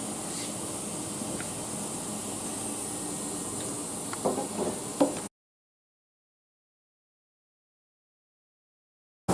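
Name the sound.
electrostatic paint spray gun spraying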